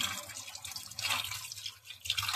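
Running tap water splashing over fish being washed in a kitchen sink, a steady faint spattering stream with small drips, heard alone over a short stretch.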